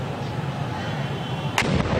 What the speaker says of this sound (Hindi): जोरदार धमाका हुआ है यहाँ पे